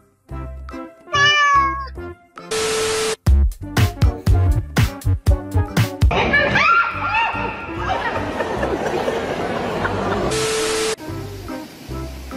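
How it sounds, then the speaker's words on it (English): Cat meows come through over a busy mix of voices, music and sudden noise bursts, with several short mews in the opening seconds and further cries scattered throughout. "Guess how many cute cats are in this video and comment below."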